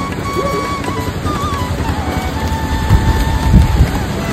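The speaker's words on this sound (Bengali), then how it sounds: "বৃষ্টি এসে গেছে, চলো। বৃষ্টি পড়ছে" Rain falling outdoors as dark clouds roll in, a steady patter mixed with wind, with rumbling low noise and a high steady whine running throughout.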